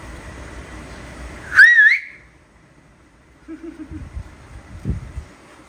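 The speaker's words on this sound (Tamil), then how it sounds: "பார்த்தீங்களா, விசில் அடிச்சுட்டு நம்மள உஷாராயிட்டாரு." Outdoors, a person gives one loud, wavering whistle that rises in pitch and lasts under half a second, followed by quiet rustling and a few soft, distant sounds.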